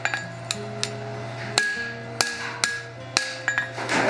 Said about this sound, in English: Now I need to bring it down.